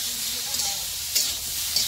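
Boiled jackfruit fries and is stirred in a kadhai, giving a steady bright sizzle with occasional scraping stir sounds, close and continuous with no talk.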